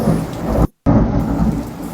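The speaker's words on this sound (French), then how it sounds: "Il y a des orages de malade." Heavy rain pours steadily with deep thunder rumbling, loud and continuous, broken by a brief silent gap.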